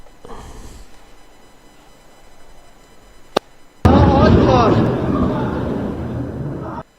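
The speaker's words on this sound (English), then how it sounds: "Footage released by Lebanese media shows Israeli airstrikes last night" Israeli airstrikes hit Lebanon at night. A low murmur breaks with a sharp crack, then a heavy explosion swells into a loud roaring rumble that lasts about three seconds before cutting off.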